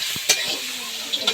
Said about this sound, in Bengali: আমি মশলাটা কষে নিচ্ছি এখানে, ওই চিংড়িটা বানাবো